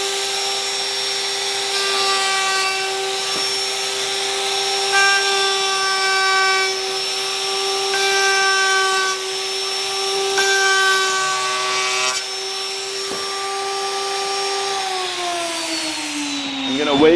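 A woodworking router spins at a steady high whine while a round-over bit cuts wood, the tone dipping slightly under load and then winding down at the end, with a voice talking over it.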